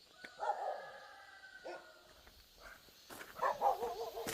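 A dog in a remote mountain village 700 metres up in Jukjeon-ri barks and yips in short, moderately distant bursts, quiet at first and then louder near the end, with faint outdoor background between barks.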